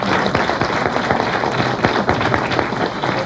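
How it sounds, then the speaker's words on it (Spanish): A dense burst of applause fills a hall at a book presentation on global aging, many hands clapping at once in a loud, continuous wash honoring the moderator. "Quiero pedir un fuerte aplauso para nuestro moderador"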